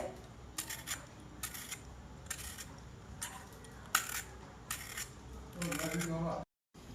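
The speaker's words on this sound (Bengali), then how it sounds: "প্রথমে এইভাবে পটলটাকে ছিলে নিবে" A peeler scrapes the skin off a pointed gourd (potol) in about seven short, evenly spaced rasping strokes, close and quiet, with a faint voice murmuring near the end.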